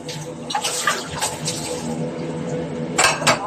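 Dishes being washed in a home kitchen under a running tap, with a steady stream of water and several clinks and knocks of vessels, louder bursts near the start and end.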